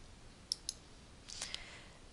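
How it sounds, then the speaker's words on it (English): Computer mouse clicks on software dialog buttons: two quick, light clicks, then a short cluster of faint clicks a moment later, close and quiet over low room hiss. "click on OK, and click on OK again"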